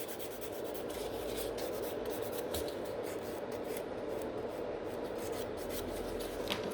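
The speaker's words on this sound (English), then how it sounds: "And this file is extremely sharp, so I'm only filing the biggest bulk again." A very sharp nail file grinds down the bulk of a hard gel nail extension in quick, continuous back-and-forth rasping strokes, faint and close, with no talking.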